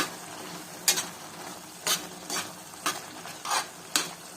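Shrimp thokku fries in a pan on high flame, a soft steady sizzle broken by about seven sharp scraping stirs of a spoon, close by and with no one speaking.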